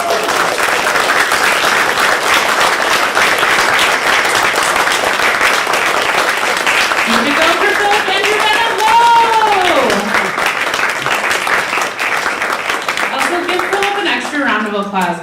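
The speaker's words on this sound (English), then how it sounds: "Round of applause" A convention audience at a folk-tale storytelling session applauds loudly and steadily for a long stretch, with a speaking voice rising over the clapping in the second half.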